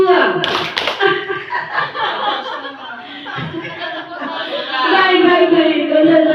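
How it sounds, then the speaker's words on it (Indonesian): An audience at a training session claps together on cue in a short burst near the start, then a mix of voices and light laughter continues underneath. "jika ada kata tepuk tangan, Bapak Ibu tepuk tangan"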